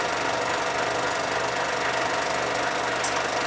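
A big 1960s fire department ladder truck's engine runs steadily, a loud, close, continuous rumbling drone with a knocking throb and no speech.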